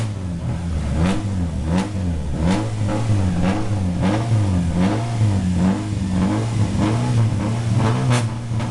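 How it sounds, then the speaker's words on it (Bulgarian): A Peugeot 106 rally car revs hard at the start of a rally stage near Sliven, its engine note rising and falling in repeated loud surges with sharp pops, close and steady throughout. "Ивайло Симеонов от Vulcan Racing Team с Peugeot 106"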